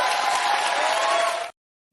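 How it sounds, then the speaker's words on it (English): Steady, dense applause from a talk show studio audience, loud and close, holding for about a second and a half before cutting off abruptly to silence. "as the crowd of lobotomized seals clap"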